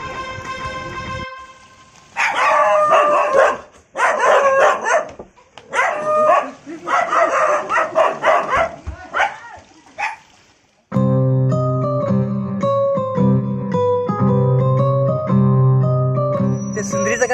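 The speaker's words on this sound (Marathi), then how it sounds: "कुत्रा आहे." A dog barks in loud, rapid bursts with yips and whimpers for several seconds, then music takes over without barking.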